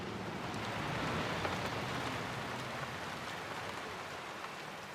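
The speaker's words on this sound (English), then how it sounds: "Thank God for the rain" Steady rain falls on a city street at night, a soft, even hiss of countless drops that holds without a break and stays fairly quiet and distant.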